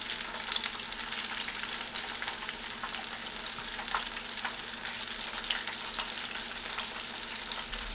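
Small groups of beer-battered crawfish deep frying in hot oil, a loud, steady bubbling sizzle with frequent sharp crackles and pops, close up and continuous.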